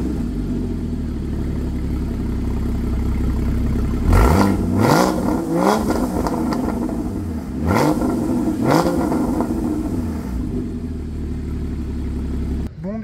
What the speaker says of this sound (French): j'allais pas vous quitter sans vous faire un petit start-up du véhicule